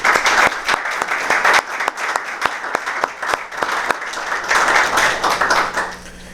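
Audience at a city budget presentation in Dunkirk, New York gives loud, sustained applause, many hands clapping with crisp individual claps throughout before easing slightly at the end.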